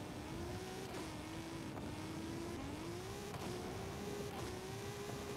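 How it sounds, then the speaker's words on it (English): Car engine droning steadily in the Forza Horizon 5 racing game, a sustained revving tone that rises and dips slightly as gears shift, loud and constant with no voices. "Whoa! This car's a bit slidey."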